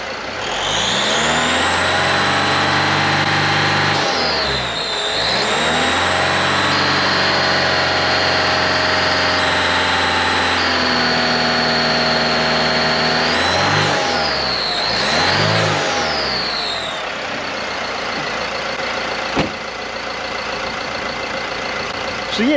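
A twin-turbo van engine revs up repeatedly from idle, rising and falling several times with a turbo whine and whistle at the peaks. It is loud and close, then settles back to a steady idle.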